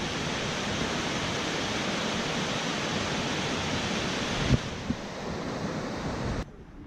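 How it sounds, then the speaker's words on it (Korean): A waterfall in Biei, Hokkaido, fed by snowmelt and running over a blue-tinted bed, gives a steady, broad rushing roar that continues evenly before dropping away abruptly near the end. "폭포 소리도 잠깐 들어보실게요"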